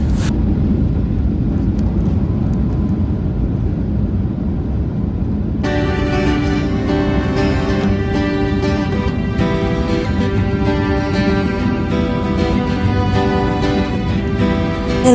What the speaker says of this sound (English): ending our long final descent into Punta Cana to land on their runway